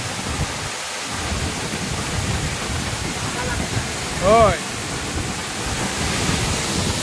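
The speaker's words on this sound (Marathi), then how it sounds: "खरोखरच खूप सुंदर असा धबधबा आहे" A waterfall at night at Rajapur Katalkada roars as a steady, loud broadband wash of falling water throughout, with a brief voice heard near the middle.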